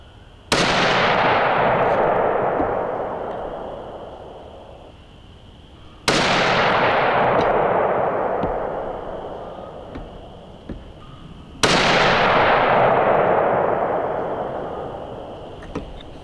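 .30-06 rifle loaded with Barnes 180-grain ammunition fires three loud, close shots about five and a half seconds apart, each sharp crack followed by a long, slowly fading rumble across an open range.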